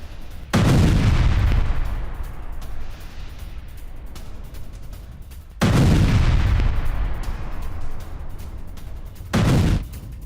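Israeli bombing and artillery strikes on Hezbollah sites in Lebanon: three heavy blasts boom out, two long rumbling explosions and a shorter one, each decaying into a low roar, with no talk.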